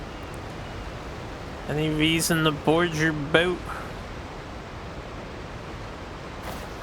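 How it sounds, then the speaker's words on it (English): Steady broadband rush of a waterfall in the video game Genshin Impact, in the Fontaine region, running continuously from start to finish while someone speaks briefly over it. "It's waterfall."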